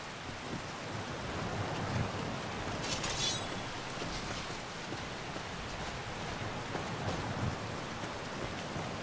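Continuous rain pours in the video game Skyrim, a dense, even hiss of rainfall with a faint low rumble and no talking.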